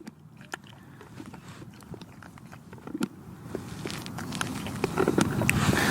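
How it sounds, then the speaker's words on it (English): A horse chews on the metal bit in its mouth, producing soft irregular clicks and jingling taps that grow busier and louder toward the end, with no talking. "Chewing on the bit."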